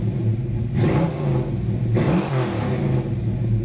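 A car engine revs in two sharp throttle blips over a steady idle, each rising quickly and falling back, close and loud with no talking.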